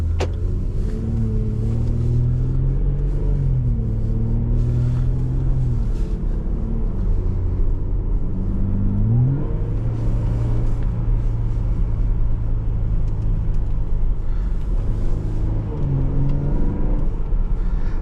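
A 2020 Jaguar F-Pace S in its sportiest drive mode gives a loud, steady engine drone with rising and falling pitch through gear changes, heard from inside the cabin with constant road rumble and no talking.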